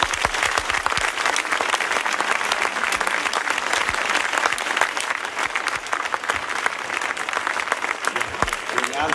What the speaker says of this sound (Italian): Chiamo qua un attimo il nostro presidente Aldo, al quale farei un caloroso applauso.